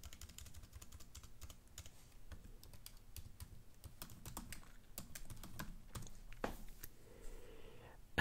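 Fingers type on a computer keyboard at close range, with quick, irregular clicks in bursts and short pauses, quiet and without speech.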